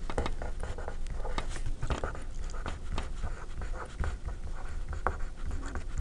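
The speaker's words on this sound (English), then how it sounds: "Sounds like a lot of writing." A pen scratches across paper in quick, uneven strokes and taps, close to the microphone but fairly soft, with no one talking over it.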